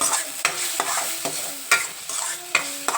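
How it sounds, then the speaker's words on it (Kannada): Pasta masala powder is stirred in a pan over low heat, with repeated close scraping strokes of a spoon against the metal and a soft background sizzle. "ಸಿಮ್ಮಲ್ಲಿ ಇಟ್ಕೊಂಡು ನೈಸಾಗಿ ಅದನ್ನು ಮಿಕ್ಸ್ ಮಾಡಿ"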